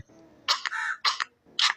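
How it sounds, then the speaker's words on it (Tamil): Three short, rough coughs in a row with brief pauses between them, fairly close and loud, with no talking. "உனக்கு இருமல் இருக்கேனே"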